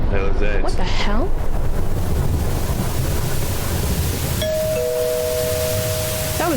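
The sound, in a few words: front doorbell ringing in a video game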